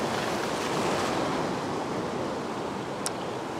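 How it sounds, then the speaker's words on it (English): Ocean waves break and wash over coastal rocks at a rock-fishing spot, a steady broadband roar of surf with wind buffeting the microphone and a faint click near the end. "That sneaky wave."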